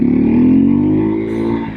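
A Husqvarna 401 Svartpilen motorcycle engine holds a loud, close, steady rev that rises slightly in pitch and then eases back, with no talking.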